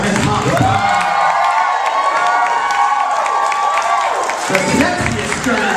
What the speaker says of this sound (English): I'm going to need another round of applause for Miss Pop.